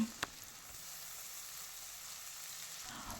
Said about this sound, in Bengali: আদা রসুনটা দেওয়ার পর পেঁয়াজের সঙ্গে ভেজে নেব